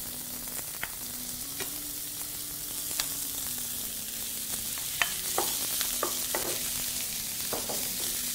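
Minced meat fries in a pan for potato hash, giving a loud, steady sizzle punctuated by sharp scraping and stirring clicks of the utensil, with no one talking.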